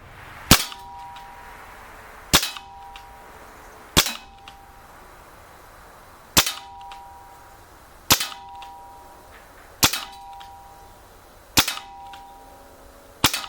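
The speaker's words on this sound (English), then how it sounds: "we're gonna put 8 rounds into the target right now" A Gamo MP9 blowback CO2 airgun fires eight sharp, close, loud cracks spaced roughly two seconds apart, each with a brief metallic ring, outdoors in the cold.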